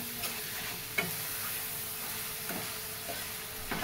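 Onion and tomato masala for biryani stir-fried in a pan, with a soft steady sizzle and a few sharp scrapes of the spoon against the pan, quiet and close.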